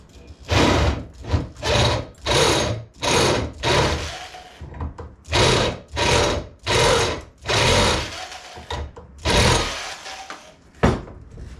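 A power drill drilling metal while making a swing arm whirs in repeated short bursts, about a dozen pulses with brief pauses between, loud and close, grinding as if through hard material.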